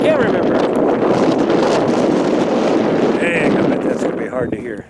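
Strong wind buffeting an outdoor microphone at a river crossing park, a loud continuous roar that eases toward the end, with faint background tones.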